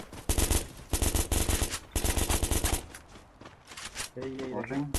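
Automatic gunfire in the video game Free Fire, loud rapid bursts repeating in three long volleys close up, followed by quieter scattered shots while someone talks near the end.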